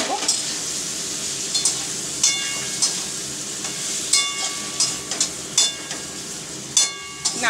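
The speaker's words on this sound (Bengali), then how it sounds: "এবার একটু নাড়াচাড়া করব।" Ginger paste sizzling in a hot pan, stirred with a utensil that scrapes and taps now and then, giving short clinks over a steady frying hiss with no voices.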